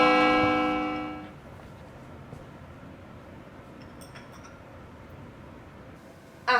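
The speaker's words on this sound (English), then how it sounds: "We hear the sound of a doorbell." A doorbell in a house rings with a bright, bell-like chime that decays over about a second, leaving a quiet room with faint background hiss.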